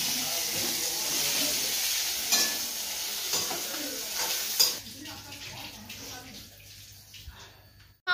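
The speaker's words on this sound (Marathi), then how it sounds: "आणि इथे मिरच्या तळतात." Green chillies fry in hot oil at a cooking spot preparing fasting food for pilgrims, a broad hissing sizzle heard close with occasional stirring clatter, fading toward the end of the clip.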